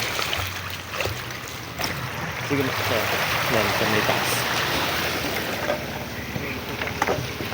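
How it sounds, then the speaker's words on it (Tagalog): A small boat boarding at the shore for a trip to White Beach in Batanes, with water lapping and sloshing against the hull and a steady outdoor wash, while people talk and call out nearby. "Ayan, sasakay na po sila ng bangka."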